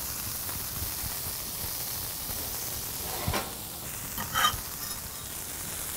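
Burger meat seasoned with salt and pepper sizzles steadily on a flat top grill, with a steady hiss broken by a few brief scraping stir sounds near the end.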